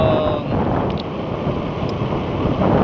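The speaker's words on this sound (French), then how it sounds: "moi j'entends beaucoup de vent dans mes oreilles" Steady, loud wind roars across the microphone while riding a Decathlon Triban GRVL 120 gravel bike on the road, a continuous broadband rush filling the whole stretch with no speech.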